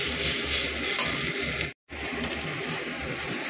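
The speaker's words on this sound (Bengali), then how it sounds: "আর একটু ডাল দিয়ে ভালো করে ফ্রাই করে তারপরে তোমাদের সামনে দেখাচ্ছি কীভাবে করছি" Lentils (dal) sizzling and frying in a pan for dal makhani, a steady close hiss with stirring, broken by a brief silent gap.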